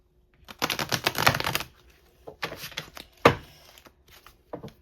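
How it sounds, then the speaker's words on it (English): Thin, slippery oracle cards are shuffled by hand in quick rustling, riffling bursts with short pauses between them and a sharper snap near the end, close and fairly loud, with no voice. "they're so hard to shuffle because they're like really, the material is very like slippery and thin"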